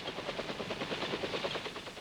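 Armed military helicopter rotor beating in a fast, steady rhythmic chop, continuous and fairly loud with no voices.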